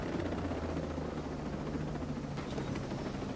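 Helicopter in the video game Ghost Recon Breakpoint, a steady low rotor thrum and whine filling the scene without a break, close and fairly loud.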